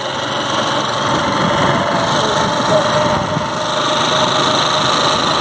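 A motorcycle engine revs in a constant high-pitched drone close by while riders talk over it.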